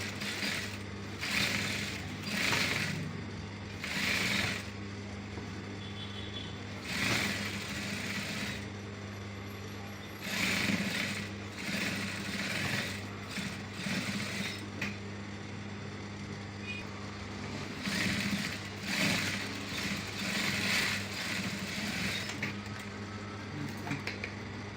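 Sewing machine stitching a decorative line onto a Senator-style garment neck, running in steady bursts with short pauses between runs, a continuous mechanical whir at moderate level with no speech over it.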